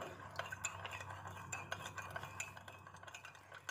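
A spoon stirring sugar into milk to dissolve it for French toast, giving quick, close, light clinks and scrapes against the container in a steady rhythm, no talk.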